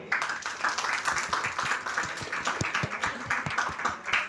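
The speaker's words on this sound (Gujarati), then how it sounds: "તો જોરદાર તાળીઓ." Birthday party guests clap together in a quick, steady rhythm with crisp individual hand claps, moderately loud and continuous for a few seconds, with little talking.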